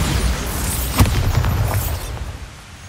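A Bombarda blasting spell explodes in the Hogwarts Legacy video game, a single loud boom with a sharp onset at about a second, then rumbling debris that fades away.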